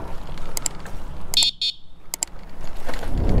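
Several short, high-pitched electronic car horn beeps sound in quick clusters over low rumbling traffic noise, ending as an engine swells.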